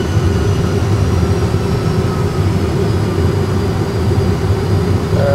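Airbus A320 engines roaring in reverse thrust on the runway after landing, a loud, steady, broadband rumble heard from the cockpit, with no pauses throughout.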